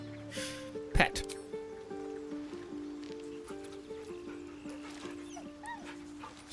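A dog whimpers softly while being petted in a fantasy role-playing video game, with brief thin yips over steady tonal game music and a sharp sound near the start.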